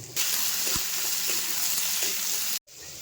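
Fish sizzles in hot oil in a pan, a steady close crackling hiss with a few soft clinks, cutting out briefly near the end before resuming.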